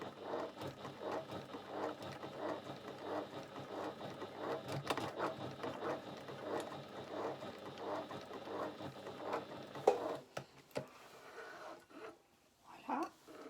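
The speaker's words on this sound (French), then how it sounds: "on vient faire une petite surpiqûre à 3-4 mm" Sewing machine topstitching a bag lining about 3–4 mm from the edge, a steady close mechanical chatter of rapid stitching for about ten seconds, then stopping with a few handling clicks and rustles.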